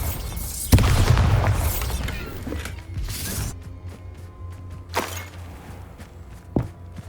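Bombarda spell explosion in Hogwarts Legacy, a loud booming blast with crashing debris that fades away, followed by a few fainter thuds and knocks.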